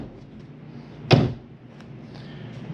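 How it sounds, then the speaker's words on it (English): A single firm thud as a door or drawer shuts inside a Jayco Eagle 357MDOK fifth-wheel RV, one sharp close knock amid quiet room tone. "Make sure all doors and drawers are closed."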